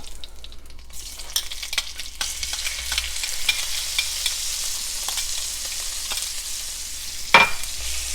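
Pineapple pieces sizzle in a hot frying pan as they are stirred, a steady hiss with scattered scraping clicks and one sharper knock near the end.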